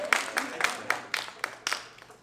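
String orchestra students in a Harpeth Hall class clap together in a short round of applause, with scattered quick bursts of claps over about two seconds, fairly close and moderately loud.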